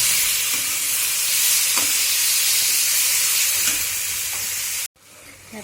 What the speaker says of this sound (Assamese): বিলাহীখিনি গলালৈকে অলপ ভাজিম আকৌ।